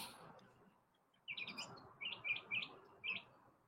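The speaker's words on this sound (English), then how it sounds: "I like the sound of Chirpy." Chirpy, a pet bird, sings a few short bright chirps in quick bursts, close and fairly faint over a soft indoor background hum.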